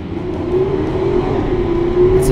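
Truck engine in a driving video game, run on an American test track, with a steady droning hum and faint revving throughout, close and continuous with no talk.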